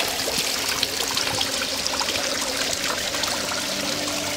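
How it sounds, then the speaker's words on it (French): Water splashes from an artificial rock waterfall into an aviary basin, a continuous close rushing and trickling with steady spattering and no voices. "Parce que là ça éclabousse sur le côté"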